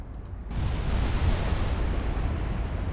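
Naval gunfire from warships in a naval warfare video game: after a short quiet start, a heavy rumbling salvo of booms breaks in and keeps rolling loud and low to the end.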